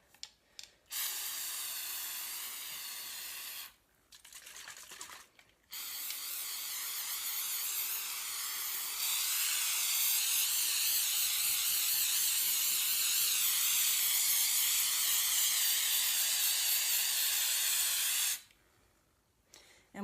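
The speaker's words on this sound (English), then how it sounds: "I'm going to go ahead and just spray some of my stripper on here." Steady hissing spray bursts of paint stripper, close up, in several long pulses with short pauses between, the last stretch continuous for about ten seconds.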